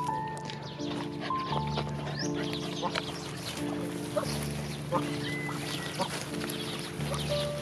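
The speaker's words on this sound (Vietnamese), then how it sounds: "Các bạn thì lùa vô chuồng thì lùa từ từ," Muscovy ducks being herded into a pen make scattered hisses and quacks over a busy farmyard with other fowl, and footsteps shuffle nearby as the flock moves.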